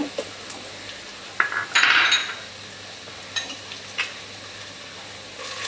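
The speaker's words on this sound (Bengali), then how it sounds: "আর এখন এতে বাটা মশলা দিয়ে দিব রসুন বাটা আর এদিকে দিচ্ছি আদা বাটা" Garlic and ginger paste drops into fried onions for meat khichuri, giving a brief burst of sizzling with a few light clinks of a spoon against the pot, then quieter frying.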